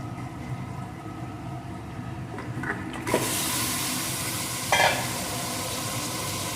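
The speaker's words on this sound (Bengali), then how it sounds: "এখন চিকেনটাও এর সাথে বেশ কিছুক্ষণ ভেজে নেব" Chicken fries with onion and garlic in a pressure cooker. A quieter sizzle swells into a loud, dense hiss after a sharp scrape midway, with a second scrape later and the hiss holding steadily close by.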